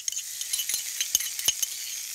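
Chilli sauce frying with onions and capsicum in a pan: a steady, fairly quiet hiss with a few sharp stirring scrapes and clicks, and no talking.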